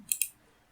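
A computer mouse gives two quick, light clicks in close succession, near and crisp, followed by near silence.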